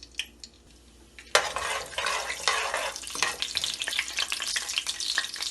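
Garam masala tempered in hot oil for a matar tahiri, with green chillies nearby, breaks into a loud, sudden sizzle after a quiet start, then crackles and spits steadily with a few clinks of a stirring spoon.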